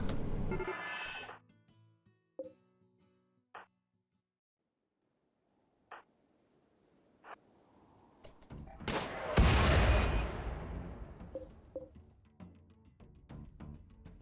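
Video game gunfire: a few isolated sharp shots spaced by near silence, then a heavy loud blast around the middle followed by scattered, decaying shots and rumble.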